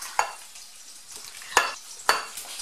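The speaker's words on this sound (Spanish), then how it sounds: "Vamos a poner ya lo que es nuestra papa con nuestra zanahoria. Vamos a revolver." Potato and carrot for a Christmas salad are stirred in a bowl or pan, giving three sharp scraping clatters of the utensil over quiet background, each fading quickly.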